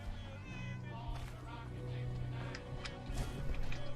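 A cat meows in Fallout 4, several short meows close by, with someone talking over part of it and game background noise underneath.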